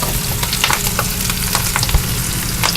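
Bok choy sizzles and fries loudly in a hot buttered pan, a dense crackling hiss with occasional pops and stirring, close up and steady.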